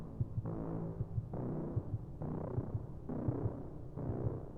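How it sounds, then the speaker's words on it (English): A soft, low heartbeat-like throb pulses steadily beneath music, a little ahead of the beat, faint and repeating through the whole stretch. "do you hear that heartbeat? Kind of just a little underneath the music."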